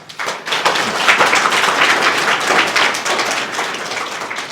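Church congregation breaking into loud, dense clapping for several seconds, many hands together, close and full, then tapering slightly at the end.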